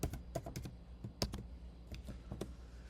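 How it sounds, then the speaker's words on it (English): Close, quiet keystrokes tap out a password on a computer keyboard in a steady run of separate clicks with short pauses, and no talking. "it opens up another terminal window where you type in your password"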